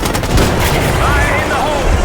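Gunfire rattles in Call of Duty: Black Ops 6, loud, dense bursts of shots with booming low end over a busy battle mix, with voices talking underneath.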